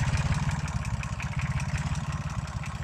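A Renault N71 tractor running on petroleum fuel, its engine chugging in a steady, close, loud rhythm of fast low pulses throughout, with no voices.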